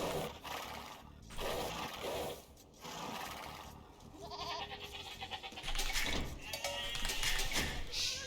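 Goats bleat in Age of Empires on a Viking water map, their calls mixed with busy game effects and background music. A voice talks over them.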